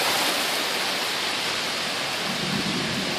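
Steady heavy rain pours through a thunderstorm in Queens, New York City, a dense, even hiss filling the whole span at close range, with a low rumbling swell toward the end and no voices.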